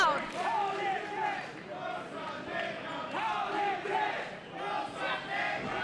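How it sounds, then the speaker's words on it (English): Loud wrestling crowd at a Mission Pro Wrestling women's match, a dense continuous roar of cheering and shouting with surging peaks and whoops, close and filling the space throughout. "And listen to this crowd."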